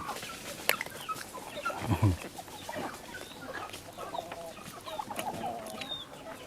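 Chickens cluck nearby in a rural outdoor cooking spot. Scattered, irregular clucks and one louder throaty call stand over low background noise, with no one talking.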